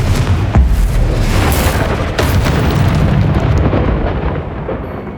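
A Confringo blast spell in Hogwarts Legacy explodes with a loud, heavy boom aimed at a bone pile, then rolls on as a thick rumbling burst before tailing off near the end.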